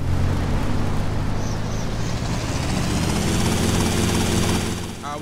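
Helicopter in the video game GTA Vice City, a loud continuous rotor and engine drone that holds steady throughout, with a brief higher chirp near the end.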